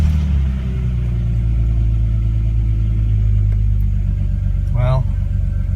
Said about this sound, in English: So I'm going to run the car now.